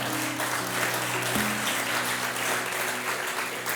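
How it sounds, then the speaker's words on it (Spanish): A church congregation breaks into sustained applause, thick continuous clapping over a low steady hum of sustained tones beneath it. "Denle un aplauso al Señor, hermano."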